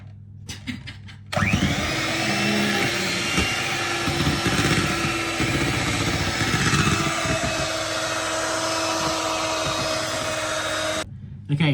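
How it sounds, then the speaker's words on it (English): An electric mixer whirs steadily through French brownie batter, running loud and continuous for about ten seconds with a few bumps against the bowl, then cutting off; brief voices come before and after. "continue mixing"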